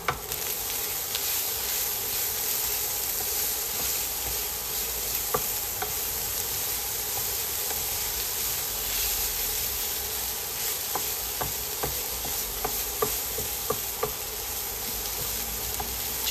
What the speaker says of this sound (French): j'ajoute l'ail haché avec l'oignon, le piment doux et les herbes aromatiques